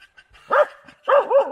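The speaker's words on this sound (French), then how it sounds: "Aboie le chien." A blood-tracking dog barks outdoors during a search for wounded game, with two sharp, fairly near bursts of barking, one short and one longer.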